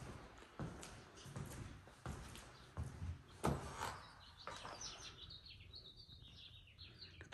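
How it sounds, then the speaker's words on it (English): Faint birdsong chirps drift in from outside a house in Prescott, Arizona, scattered high calls rising over a quiet room with a few soft knocks and door-like thumps early on. "The birds chirping."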